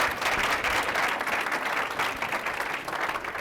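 An audience gives Tiffany a steady round of applause during a performance management session, dense clapping sustained evenly and fairly loud throughout.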